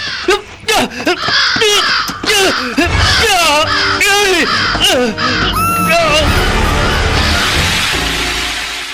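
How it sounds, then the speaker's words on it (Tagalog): A large crow caws harshly over and over in a night attack, mixed with wailing, crying human voices and dramatic sound effects, loud and close throughout. "Atakihin ako ng uwak!"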